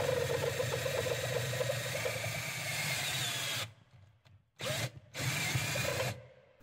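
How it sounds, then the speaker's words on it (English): A power drill with a stepped bit cuts through vehicle sheet metal for a VHF/UHF antenna mount, a loud steady whining grind that stops, restarts in two short bursts, then ends. "I'm using a stepper drill bit now."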